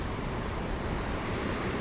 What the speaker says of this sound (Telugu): మన బీచ్ దగ్గర కదా, చాలా గాలి ఎక్కువ ఉండడం వల్ల